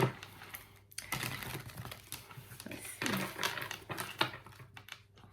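A deck of 55 oracle cards being shuffled by hand, a steady run of close, crisp riffling and slapping card noise across the whole stretch, with a brief pause near the start and a short spoken phrase.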